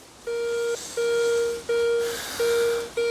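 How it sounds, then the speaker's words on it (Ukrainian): A metal detector sweeps over a buried coin, sounding a repeated steady electronic tone in regular bursts of about half a second, clear and close with no talk. "черговий сигнальчик на монетку"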